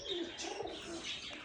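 Pigeons coo softly at a dealer's loft, a few low, faint calls in quick succession with light chirps and a brief hint of fluttering in the background.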